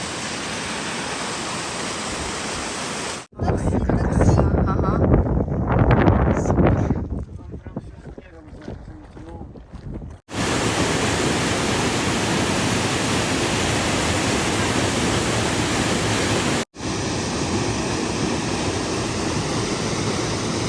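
Steady broadband rushing of a fast mountain river in the Tatra Mountains near Zakopane fills most of the stretch, briefly interrupted by a voice talking over quieter water before the loud rush returns.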